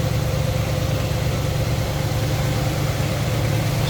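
A 1957 Cadillac Eldorado Biarritz convertible engine idles smoothly and steadily, a close, even low rumble with a faint hum above it that holds unchanged throughout.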